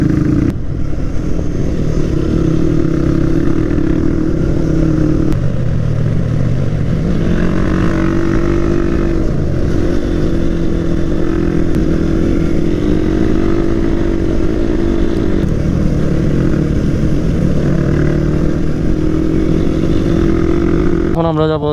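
A motorcycle ridden slowly up a hill road in Rangamati, its engine droning loud and steady for the whole stretch with small shifts in pitch, and people talking over it.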